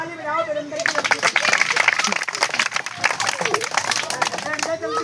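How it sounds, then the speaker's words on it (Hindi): An audience clapping at a crowded gathering, a dense patter of many hands rising after a spoken line and continuing under loud overlapping voices and chatter. "ताली बजाओ वीरेंद्र की लड़की।"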